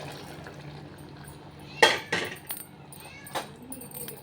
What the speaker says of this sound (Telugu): 1/2 గ్లాస్ నీళ్ళు పోసుకుందాం.